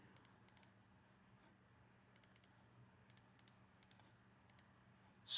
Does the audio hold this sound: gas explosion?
no